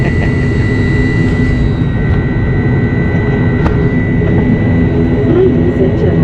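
An airplane engine drones loud and steady after touchdown at Masbate, a constant low roar with a faint high whine running through it.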